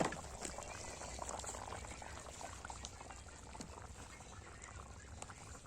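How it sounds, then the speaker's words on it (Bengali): Duck meat curry, a sour winter-style duck dish, simmering in a pot: a steady bubbling and gurgling hiss that stays close and even, slowly easing off over a few seconds. "মাংসটা পুরো ফুটে গেছে একদম, মাংস রান্না কমপ্লিট।"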